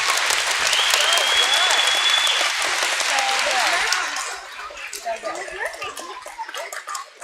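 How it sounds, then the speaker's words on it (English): An audience at a school Veterans Day assembly breaks into loud applause and cheering with whistles, which fades after about four seconds into scattered claps and murmuring chatter. "Can you give them a round of applause, please?"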